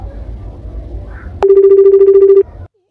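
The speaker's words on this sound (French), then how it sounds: "Téléphone, il sonne." A telephone rings with one loud, steady electronic tone lasting about a second, right after a sharp click, over a low background hum; there is no talk.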